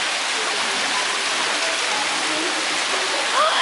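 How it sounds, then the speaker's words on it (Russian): An indoor waterfall in a tropical hall pours steadily, a dense, close hiss of falling water that fills the space evenly, with a faint bird chirp near the end. "Здесь, короче, водопад. Есть водопад."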